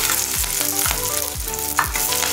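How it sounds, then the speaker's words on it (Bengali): Green beans frying in hot oil with grated ginger for vegetable chow mein, a loud, continuous sizzle broken by rhythmic stirring strokes about every half second, with no voices. "বিনসটা একটু ভাজা ভাজা করে নেবো।"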